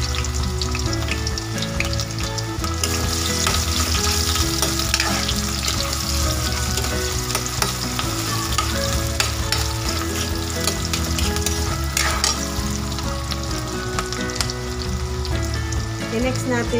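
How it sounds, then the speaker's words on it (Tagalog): Sliced onions fry loudly in a hot pan, a dense, unbroken sizzle and crackle that fills the whole stretch at close range. "Lagay natin yung sibuyas."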